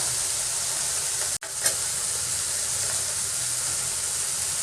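Chopped coriander leaves fry in a hot pan while a chutney is being made, giving a steady, close sizzle that holds throughout, with one brief drop near the middle and no talk.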